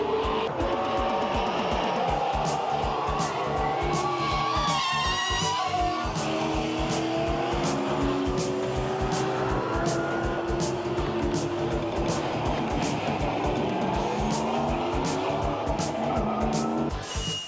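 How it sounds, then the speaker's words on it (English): Stock cars racing on an oval track, engines roaring continuously with tires squealing and skidding through the turns, loud and sustained with rapid pulsing engine noise throughout. "Stock car racing takes place on an oval or circular track."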